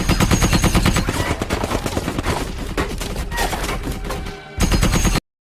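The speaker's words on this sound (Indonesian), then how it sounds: "Kemudian pasukan Belanda menyerang pejuang Indonesia dengan membabi buta." Dutch troops firing on Indonesian fighters in an animated battle, a loud continuous barrage of rapid gunfire and machine-gun bursts that dips briefly near the end, then resumes and cuts off abruptly.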